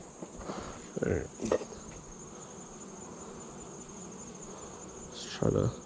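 Bees in a backyard apiary hum steadily around an open beehive box, a constant buzzing bed with a few brief, louder bursts of handling noise close by.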